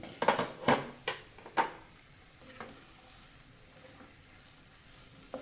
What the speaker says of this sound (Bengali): দু মিনিট পর ঢাকাটা খুললাম